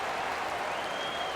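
A home crowd in an NBA 2K20 arena, Los Angeles Clippers against Golden State Warriors, roars with steady dense applause and cheering, loud and continuous throughout, with a faint tonal whistle rising above it.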